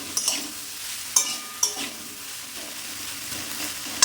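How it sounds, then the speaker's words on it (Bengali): Ginger paste stirred into cauliflower and potato frying in a pan for Bengali posto, a soft sizzle under a few sharp scrapes and clinks of the spatula at irregular moments. "এর মধ্যে আদা বাটা দিয়ে দিলাম, দিয়ে একটু নেড়ে নিলাম।"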